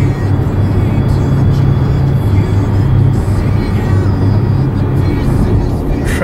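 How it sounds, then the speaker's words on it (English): A loud, steady roadway rumble and whir of passing cars on a congested Tampa Bay road, continuous throughout with no pauses. "Traffic still backs up."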